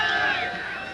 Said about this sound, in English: That cheering that you hear is for the Delta Commando team